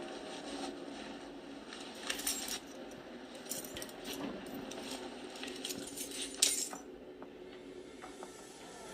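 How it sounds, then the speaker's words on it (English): A set of keys drops and clatters, giving bright metallic jingles and a sharp clink near the end, heard close against a steady low background hum with no speech. "not a good time to drop the keys."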